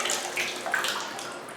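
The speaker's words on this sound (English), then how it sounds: "water's coming up nicely" Tap water running steadily into a Kohler whirlpool bathtub as it fills toward the overflow drain, a continuous close splashing hiss with no voices.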